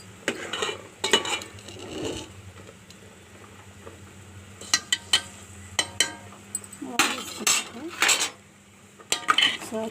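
Yam chunks being stirred into tamarind broth in a metal pot. A spoon scrapes and clinks against the sides in irregular bursts, some sharp and loud, with a faint simmer and quiet gaps between strokes.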